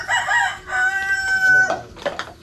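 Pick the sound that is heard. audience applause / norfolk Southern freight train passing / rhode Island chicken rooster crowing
rhode Island chicken rooster crowing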